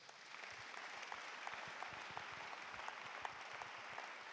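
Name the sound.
church congregation applauding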